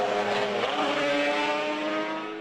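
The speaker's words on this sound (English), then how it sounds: "Dunlop, riding brilliantly on the 351 Yamaha, still manages to cling on to the bigger works bikes" Racing motorcycles, including a 351 Yamaha, at the Portrush road races, giving a loud, sustained, high-pitched engine howl whose pitch sags slightly as it carries past.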